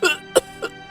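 An old man coughs three times in quick succession, the first loudest and the others shorter, a voiced, strained sound close up in a dramatized story scene.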